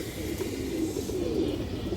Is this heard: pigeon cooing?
yes